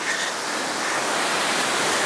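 Jeans Run Falls in Lehigh Gorge pours in a steady, broad rush of falling water that holds constant and fairly loud across the whole stretch, with no voices over it.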